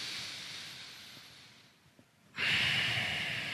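Deep breathing during a morning yoga routine: a long, slow hissing exhale fades to near silence, then a sharp, loud inhale begins and continues close to the mic.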